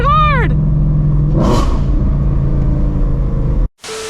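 A Shelby GT350 Mustang's engine rumbles loudly and steadily while driven hard, with a brief revving swell partway through before cutting off abruptly.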